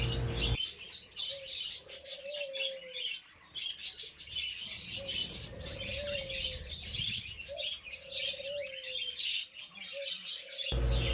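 Budgerigar colony chirping steadily while feeding on water spinach on a hot day, dense overlapping tweets and calls from many birds at close range, with a few brief louder whistles, no talking.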